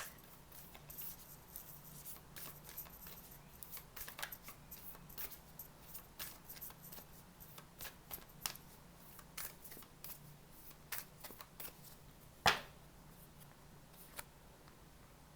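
Tarot cards shuffled and handled softly at close range, a faint steady patter of card rustles with one sharper snap near the end.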